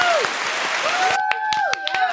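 An audience claps for Chicago in a brief burst of loud applause while a host keeps talking over it.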